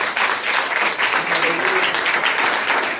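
Church congregation applauding during a prayer service, a thick, loud, continuous roar of clapping close by, with voices mixed in.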